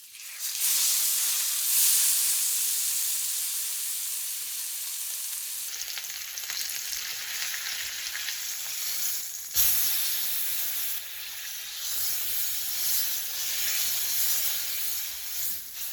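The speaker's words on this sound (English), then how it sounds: "We're going to sear the brisket for 2 to 3 minutes per side." Beef brisket sears in a hot pan with a loud, steady sizzle and hiss that carries on alone throughout, briefly flaring with a sharper burst partway through.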